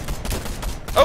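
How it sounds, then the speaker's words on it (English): Gunfire from a Fortnite match, laying down suppressing fire: a short, busy burst of rapid shots with a louder crack near the end. "But I could do like suppressing fire. Suppressing fire!"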